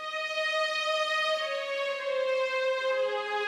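Synthesized strings hold long, smooth sustained notes with a rich harmonic texture, forming one part of a music loop. The line shifts pitch only slightly near the end and plays steadily throughout.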